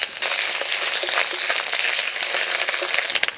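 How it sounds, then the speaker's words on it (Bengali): Fish roe frying in hot oil with ginger and slit green chilies, a steady loud sizzle and crackle that fills the whole stretch, with a few sharper pops near the end. "ডিম একটু ভেজে নিলাম।"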